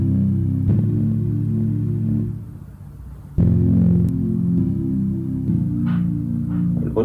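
Sustained synth pad chords in an Afrobeat production run through amp distortion, giving a thick, humming, gritty drone that drops out briefly and then returns at full loudness with a new chord.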